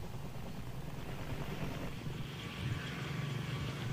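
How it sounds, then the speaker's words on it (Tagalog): Helicopter flying over Maguindanao during a rescue of wounded troops after a clash, a steady, loud rotor and engine drone with a pulsing low rumble throughout and no talking. "Howie, eksklusibong nakuna ng GMA News ang paglilipad ng isang helicopter sa Maguindanao sa mga sugatan sa nagyaring bakbakan ng trop"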